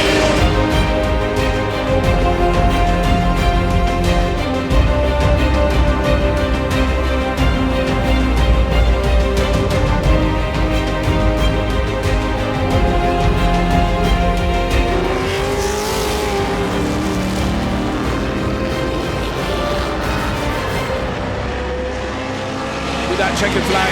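Racing cars, a Mini and a Ford Escort among them, roar around a circuit in a loud, continuous stream of engine noise, with revs rising and falling and a race commentator talking over it.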